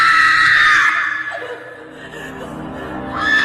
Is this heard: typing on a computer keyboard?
no